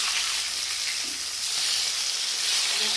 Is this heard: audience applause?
no